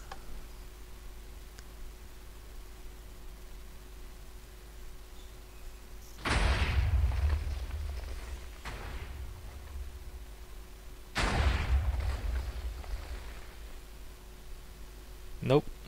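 Minecraft fireworks launching and bursting at night in the video game, two loud blasts several seconds apart, each with a crackling decay, followed by a brief faint pop near the end.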